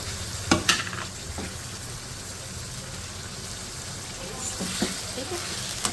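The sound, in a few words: frying goat liver masala with garlic ginger paste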